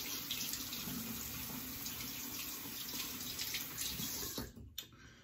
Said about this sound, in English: Let me rinse this real quick